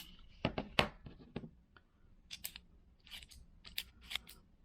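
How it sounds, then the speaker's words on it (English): An ST Dupont or Porsche Design cigar cutter working its straight blade on a sliding actuator, giving a series of sharp, close metallic snips and clicks, with a quick cluster early on and more spaced cuts afterward, no voices. "the straight cutter, you can see, has a stationary blade and then a blade on the actuating slider here"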